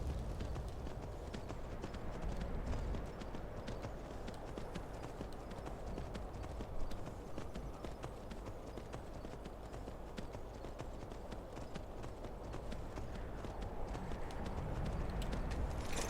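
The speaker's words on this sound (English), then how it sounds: "Let's get off our horse because I think we're nearly used to that." Horse hooves clip-clopping steadily in Skyrim, a continuous even trotting rhythm heard fairly close amid quiet outdoor game ambience.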